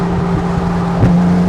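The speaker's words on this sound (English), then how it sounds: "as you climbed in the revs, you could really feel the engine coming alive" A modified 1974 Porsche 911 engine drones loudly and close, with a brief surge in revs near the end.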